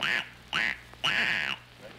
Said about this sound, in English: that's a wise quack.